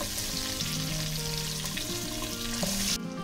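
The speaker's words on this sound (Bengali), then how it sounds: "কাঁঠালটাও ভালোভাবে ভেজে নেব" Raw jackfruit pieces frying in oil left over from frying potatoes: a dense, continuous sizzle close by, with a low steady hum underneath, ending abruptly.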